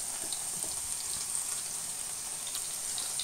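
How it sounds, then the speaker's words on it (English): Ginger sizzles in hot oil in a pan, a steady, even crackle and hiss that carries on throughout at moderate level, with no voices. "So let's grab the ginger, toss it right in the pan."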